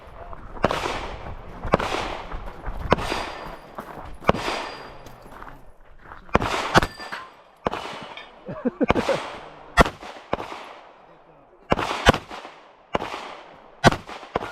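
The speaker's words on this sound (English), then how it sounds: "You're shooting low left. Aim a little higher." Gunshots at an outdoor shooting range crack out one after another, about a dozen loud, sharp reports spaced a second or so apart, with quiet gaps between them.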